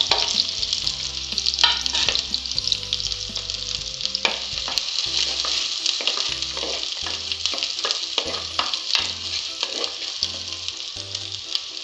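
Finely chopped onion and green chillies fry in a pan for a Malabar kudampuli sardine curry, giving a steady loud sizzle with intermittent stirring scrapes and clinks throughout, no voices.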